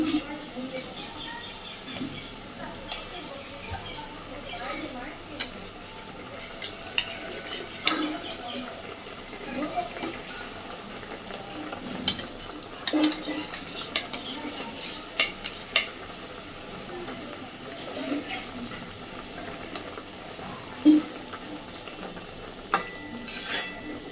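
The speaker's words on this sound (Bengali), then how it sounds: "এইবার দিয়ে দিচ্ছি ভেজে রাখা বেগুন" Fried eggplant stirred into spices in a pan for a Bengali begun bahar, with soft scraping and clinks of a spoon against the pan and faint sizzling throughout, occasional sharper knocks standing out, no talk.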